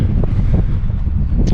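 Strong gusting wind buffets the microphone at a high mountain lake during a fly fishing outing, a steady loud low roar with small flutters and no voices.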